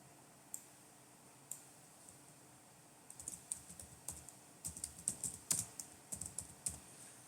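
Computer keyboard keys click faintly: a couple of isolated taps at first, then a denser run of sharp, uneven keystrokes, close and quiet in an otherwise still room.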